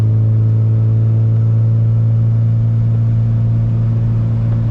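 A Honda Civic Si engine pulling hard in sixth gear with VTEC engaged, a loud, steady, buzzing drone with a strong low tone and layered harmonics, heard from inside the car at night.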